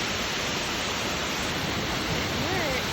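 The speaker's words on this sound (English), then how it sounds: "Here's the water coming down into that waterfall." Steady, dense rush of falling water at Mist Falls in Kings Canyon National Park, loud and continuous, like a waterfall heard from close by.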